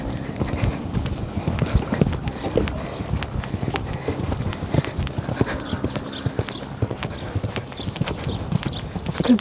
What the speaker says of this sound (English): Canter's very smooth though.